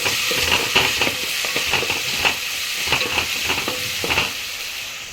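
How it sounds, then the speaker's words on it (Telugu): Turmeric being stirred into fried ginger paste in a pan for goat head curry, with a steady sizzle and repeated scraping strokes from a spoon, close and moderately loud throughout. "ఇప్పుడైతే కొంచెం పసుపు, ఇవన్నీ అయితే బాగా కలిసేలా కలుపుతున్నాము."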